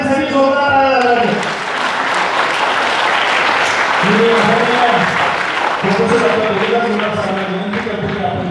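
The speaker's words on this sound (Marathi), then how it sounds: "एका विद्यार्थ्यांसाठी जोरदार टाळ्या वाजवा" A college audience at a startup and innovation workshop in Sangamner claps loudly for a student, a sustained burst of many hands with voices speaking over it at the start and again near the end.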